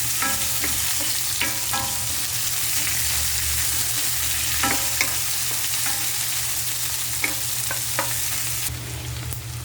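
Chopped onions sauté in a hot pan ahead of shrimp, a steady close sizzle broken by scattered utensil scrapes and taps as the onions are stirred.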